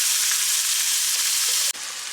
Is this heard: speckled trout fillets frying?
yes